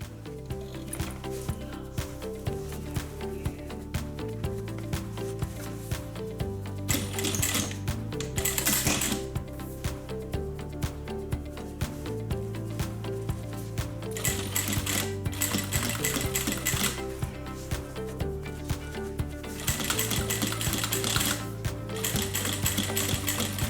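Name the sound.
sewing machine stitching a seam on a zip-around wallet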